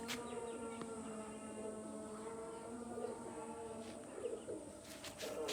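Several pigeons coo softly and continuously at close range, with faint chirps and insect hum in the background and no talking.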